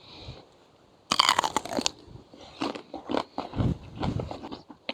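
A fresh home-grown radish is bitten with a loud, sharp crunch, followed by several seconds of close, wet chewing and crunching in bursts.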